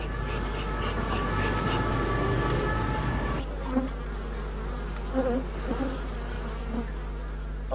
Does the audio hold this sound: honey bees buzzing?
yes